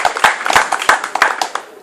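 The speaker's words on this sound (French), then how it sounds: "il faut applaudir" An audience at an ecological youth camp event in Senegal claps for an honoured guest, sharp individual hand claps close to the listener, loud and somewhat irregular, tapering off at the end.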